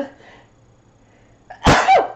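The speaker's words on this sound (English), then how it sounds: "Sorry, I have to sneeze." A single loud sneeze bursts out close by after a quiet moment, with a faint voice murmuring beforehand.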